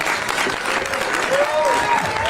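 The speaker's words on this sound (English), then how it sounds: "Big round of applause for our supervisor, Malcolm." A crowd applauds a supervisor at a San Francisco officials' sanctuary-city gathering: dense, steady clapping fills the whole stretch, with a voice rising above it partway through.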